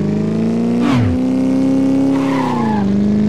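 A motorcycle clips between two cars in the game Moto Rider, a sustained engine drone with a sudden swooping squeal mid-way, loud and continuous, then the engine pitch dips.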